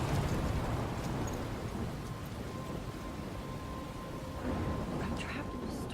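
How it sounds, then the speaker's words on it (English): Thunderstorm with rain in the game Life is Strange: a dense, steady roar of heavy rain under low rumbling thunder, loud and continuous, with no voices. "I'm trapped in a storm?"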